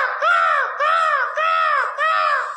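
A schoolboy imitates a crow, giving four loud, close, evenly spaced caws in quick succession.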